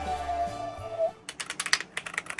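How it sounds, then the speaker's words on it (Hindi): A mechanical gaming keyboard clacks under quick typing, a burst of about a dozen sharp, close keystrokes in an irregular rhythm that follows a steady tonal hum. "ये मैकेनिकल कीबोर्ड थोड़े से गेमिंग के लिए प्रेफर्ड होते हैं"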